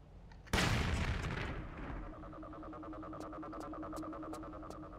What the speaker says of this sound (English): Just blowing up fire extinguishers left, right, and center.